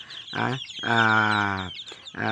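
A hen clucks and croaks in close, drawn-out bursts in a coop with chicks, three calls with brief pauses between them.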